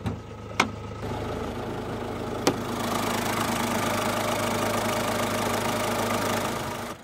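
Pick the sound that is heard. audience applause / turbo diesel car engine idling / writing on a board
turbo diesel car engine idling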